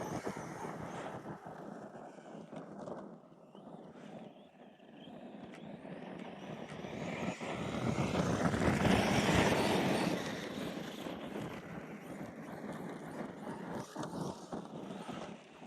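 Arrma Kraton 6S RC car motor revving under increasing throttle outdoors, a rising electric whine that swells loudest mid-way then eases, heard at a distance with wind noise over the microphone.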